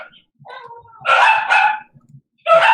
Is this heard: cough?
no